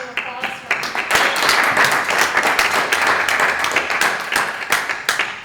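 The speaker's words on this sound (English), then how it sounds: "let's give Brian a big round of applause" An audience greets a guest speaker with a round of applause: crisp, close individual claps build into a steady burst, then thin out toward the end, with some talking mixed in.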